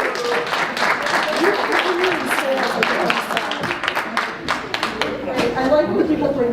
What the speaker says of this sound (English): How about a round of applause for Frank?